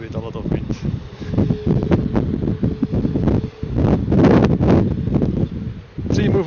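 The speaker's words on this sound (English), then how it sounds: "there's quite some wind" Gusty wind buffets the microphone at an airport, a loud, rough roar that rises and falls, with someone talking over it throughout.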